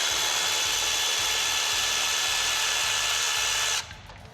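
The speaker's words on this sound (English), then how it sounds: "I'm just going to zap these out with the 1/4 inch Milwaukee" Milwaukee 1/4 inch power tool zipping out fasteners, a loud close continuous whirring buzz with faint rhythmic pulsing underneath, cutting off abruptly near the end.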